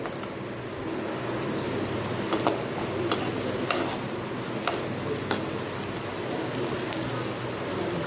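Onions fry in a pan for tomato rice with a continuous close sizzle, broken by a few light clicks of a utensil against the pan.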